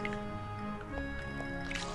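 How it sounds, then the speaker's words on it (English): Watering crops with a watering can in Rune Factory 5, a soft liquid splashing and dripping effect layered over steady game music, moderately quiet and continuous. "here we're gonna water all these as well"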